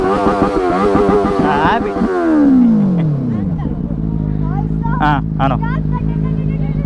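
A Benelli 600i motorcycle engine roars on an Independence Day group ride, its drone sliding downward in pitch as the throttle eases, then settling into a steady low rumble with other bikes around. Voices talk over the engine noise.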